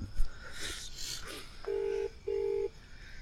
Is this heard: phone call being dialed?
yes